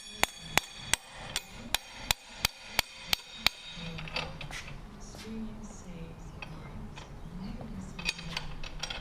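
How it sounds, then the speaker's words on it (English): A hammer strikes a 19 mm deep socket held against the end of an axle on a Raptor 125/250 ATV, about a dozen sharp metallic blows in a steady rhythm, then the hammering stops and faint handling noise follows. "you take your 19 millimeter deep socket, put it on the end, and then hit it."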